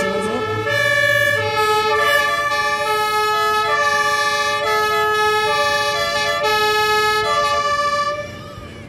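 Fire engines of a volunteer fire brigade in Górniki greet each other with sirens and horns at a firefighting demonstration, loud sustained wailing tones and overlapping horn blasts filling the air until a slight drop at the end.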